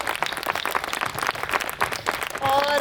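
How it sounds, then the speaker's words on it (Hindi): An audience claps loudly for the children after a stage performance, dense steady applause throughout, with a short tonal voice or whistle-like sound rising near the end. "तो बच्चों के लिए एक बार फिर से ज़ोरदार ताली।"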